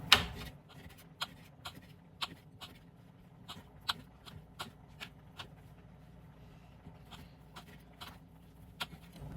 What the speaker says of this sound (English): let's cut up this chicken